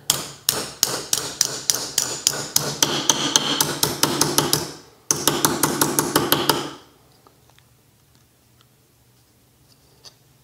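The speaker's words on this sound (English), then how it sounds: "So I'm gonna hammer this flat." A metal bracket for a Wald 215 rear rack on a vintage mountain bike is hammered flat. Rapid, ringing strikes come close and loud in two quick runs with a short break between, then stop into near silence.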